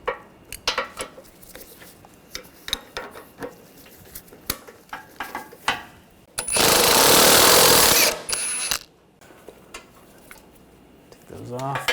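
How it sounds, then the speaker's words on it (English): A socket on a ratchet works the bumper nuts of a 2013-2019 Ford Escape, giving sharp metallic clicks and clinks in irregular bursts, then a loud sustained whir of a power tool for about two seconds before the clicking resumes. "Now I'm going to remove these nuts up here and down there. Use a 13mm socket."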